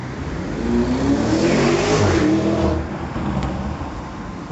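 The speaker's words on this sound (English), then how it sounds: "That's a Ford Mustang, that." Out on a Blackpool street, a Ford Mustang's engine revs loud and close, a rising and falling throaty roar that fades a little toward the end over busy outdoor ambience.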